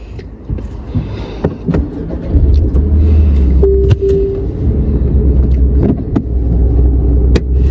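A car moves through busy traffic: a continuous low engine and road rumble from inside the vehicle, with a brief horn-like tone and occasional clicks and knocks.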